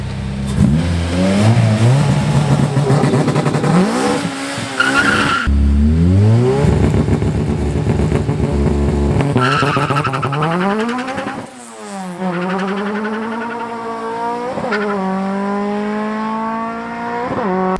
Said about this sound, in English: It'll hold the two-step to about 12 miles per hour, and then it'll shoot for the RPM.